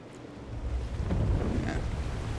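Flood water in the Slay the Princess video game, a steady rushing, wave-like wash that swells from about half a second and holds loud to the end, with no voices.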